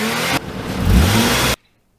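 Sports car engine revs and accelerates in a brief, loud burst lasting about a second and a half, then cuts off abruptly into silence.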